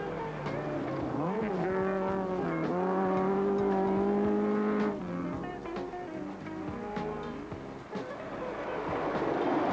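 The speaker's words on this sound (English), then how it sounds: "This is Possum Bourne's Subaru" A Subaru four-wheel-drive rally car on a 1983 New Zealand rally stage revs hard through the gears, its engine note climbing and dropping under a steady roar, with gravel noise and a commentator speaking over it.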